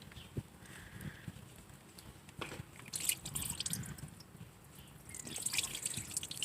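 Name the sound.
rusty coolant water dripping from an engine leak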